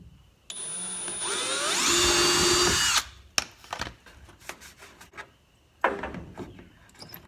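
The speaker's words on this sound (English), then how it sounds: "then I can finish drilling the rest of the stuff" A power drill bores into race car nose supports with a loud, close whine for about two and a half seconds, followed by scattered clunks, taps and a brief second whir of handling the parts.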